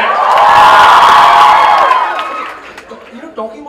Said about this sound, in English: A bigger cheer and a bigger shout for that!